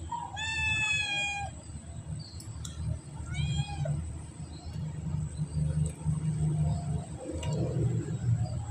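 Two clear meows from a cat, one near the start and a softer one a few seconds later, over a steady low rumbling background.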